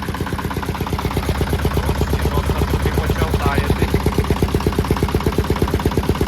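Shifeng walk-behind tractor's single-cylinder engine running outdoors in freezing winter weather, a loud, fast, steady chugging beat close by with no pauses.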